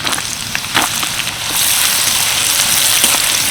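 Chopped carrot hits hot oil with lightly fried garlic, bursting into a loud, steady sizzle that swells partway through and holds close and dense, no voices over it.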